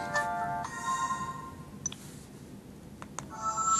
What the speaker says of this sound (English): Notification alert, system music